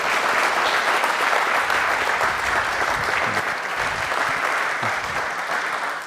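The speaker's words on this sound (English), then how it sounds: "Let's give him a huge round of applause." A crowd applauds steadily, a dense wash of clapping that holds at a constant level for several seconds, with no voices over it.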